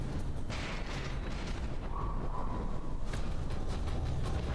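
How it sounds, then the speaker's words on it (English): Battleships trade fire in the naval combat game From the Depths, with a constant roar of booming explosions and artillery blasts that stays loud throughout. "Having explosions popping in there."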